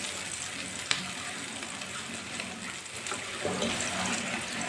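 Finely chopped onion frying in oil for an aloo chicken curry gives off a steady, close sizzling hiss that swells slightly toward the end, with a single sharp clink near the start.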